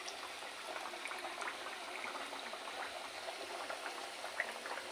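Fish frying in hot oil, a faint, steady bubbling hiss with small crackles and pops scattered through it, close and continuous with no voices.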